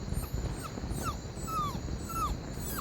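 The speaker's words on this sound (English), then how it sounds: "they've got a dog that's following us here, look." A dog following people on a walk gives several short, high whimpering yips at intervals over faint outdoor background noise.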